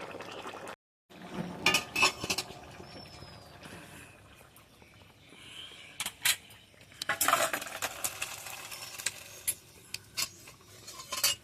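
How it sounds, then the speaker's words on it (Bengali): A ladle clinks and scrapes against a metal pot as ready ghugni of peas and potato, cooked with whole garam masala, is served out. The close metallic knocks come in scattered clusters, busiest near the middle and end. "ঘুগনিটা আমার পুরো রেডি এবার আমি ঢেলে নেবো"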